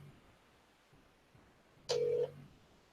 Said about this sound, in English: I'll just see if I can get him on the phone.